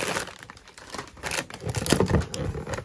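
Crinkling, tearing plastic and paper packaging as a package of masking tape is opened, a close, busy run of rustles and rips with sharp crackles throughout, no talking.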